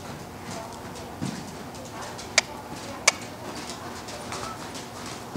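Horse hooves clip-clopping at a steady pace during a riding lesson in an arena, a soft, even rhythm heard at moderate distance with a couple of sharp knocks and birds cooing faintly in the background.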